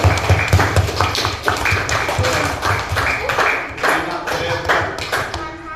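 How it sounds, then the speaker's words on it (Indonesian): Children in an elementary school classroom clap their hands together in a loud, rapid, uneven burst that carries on for several seconds, with thumps and taps mixed in and young voices briefly heard under the clapping. "Yo, tepuk tangan untuk kita semuanya."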